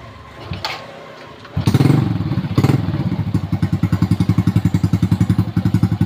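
A motorcycle engine just fitted with a new spark plug cranks with a few thuds, then catches and settles into a loud, steady, rhythmic idle chug close by, with no voices.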